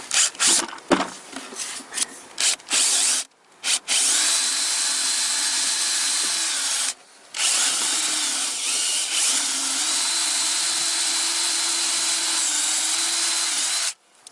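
A power drill whines loudly and steadily while drilling out aluminium nails on a Toyota Corolla VVT-i intake manifold, with short stuttering bursts at first, then a long continuous grinding run interrupted by one brief pause.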